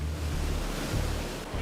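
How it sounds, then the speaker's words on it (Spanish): About a foot of water surges at speed toward a car tethered to the ground, a loud, steady rushing roar like crashing surf that fills the whole moment, with no voice over it. "unos 30 centímetros de agua vienen a toda velocidad hacia mí"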